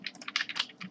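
Quick burst of keystrokes on a computer keyboard, several light clicks in fast uneven rhythm, close and faint, with no voice.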